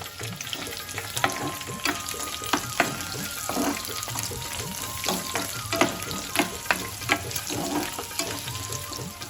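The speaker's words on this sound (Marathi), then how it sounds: "तेल गरम झालेलं आहे हा त्यात कढीपत्ता टाकू आणि हिरवी मिरची टाकू आणि कांदा आता सगळं आहे परतून घेऊ" Curry leaves, green chilli and onion sauté in hot oil for a prawn fry, giving a steady crackling sizzle with sharper spits and stirring clatter throughout, with no talking.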